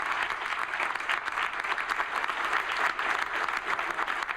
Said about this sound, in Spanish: Se pusieron en pie y aplaudieron.